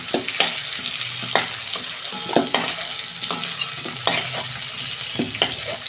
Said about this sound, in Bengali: এই যে আলু বেগুন আমার ভাজা হয়ে গেছে